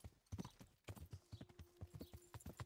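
Quiet, steady clip-clop of horse hooves trotting in an even rhythm in the video game Kingdom Come: Deliverance, with a faint sustained tone underneath.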